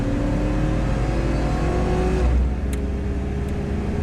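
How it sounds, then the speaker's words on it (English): A pickup truck engine runs loud and close with a steady, throaty drone, easing off briefly partway through, with no voices. "can you hear that? My truck is running fine as shit right now."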